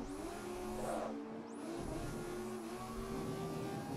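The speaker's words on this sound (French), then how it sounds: "c'est parti avec donc la BMW, avec un son beaucoup plus agréable à l'oreille" A BMW race car engine in the racing video game GRID holds a steady, loud drone throughout, with a rising rev sweep near the start and a brief dip before climbing again.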